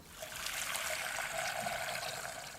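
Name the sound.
tap water filling a kettle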